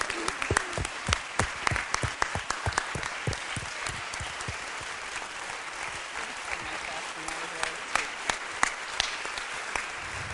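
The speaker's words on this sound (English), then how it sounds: "I want to give them a big round of applause for this lady." Audience applause at a think-tank gathering honoring a woman, steady scattered clapping from a seated crowd lasting throughout, moderately loud with individual sharp claps standing out near the front.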